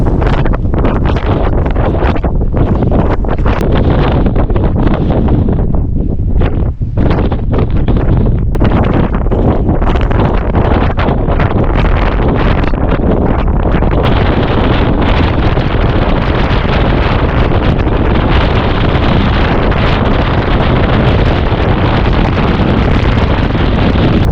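Strong, biting wind roars without a break across an open Sobaeksan mountain ridge in winter, a loud, dense buffeting rush on the microphone that surges and gusts for the whole stretch, with no voices.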